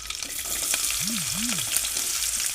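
Onion frying in a pan, a continuous close hiss and crackle with a few stirring knocks and a brief low rising-falling tone partway through, no talking.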